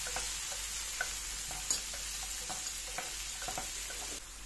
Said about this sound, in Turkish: Mantarımı da biberimle birlikte güzelce sotelemeye devam ediyorum.